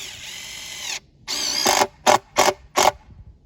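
A power drill drives a screw into a log for a chainsaw mill setup, starting with one sustained whine and then a pause. Three short whirring bursts follow, close and clear.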